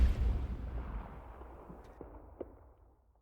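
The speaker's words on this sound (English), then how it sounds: "along the way, she heard another gunshot." A single gunshot fired outdoors near a back alley, a sharp low boom at the start with a long rolling decay, then fainter distant cracks trailing off.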